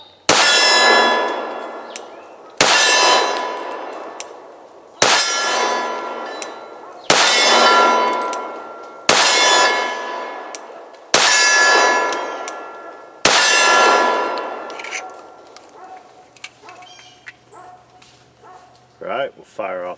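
Shots from a Sig Emperor Scorpion pistol ring off steel targets at a range, seven sharp clangs spaced about two seconds apart, each followed by a long fading metallic ring, with a dog barking and yipping afterward.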